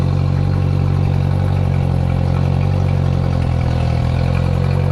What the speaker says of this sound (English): get the revs up, see if we can get through that old fuel